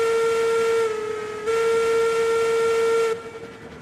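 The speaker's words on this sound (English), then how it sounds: "Of course, we have our whistle." A steam locomotive whistle blows in the railroad video game Railroads Online, a loud sustained tonal blast that dips briefly, resumes and then cuts off, leaving a low background hum.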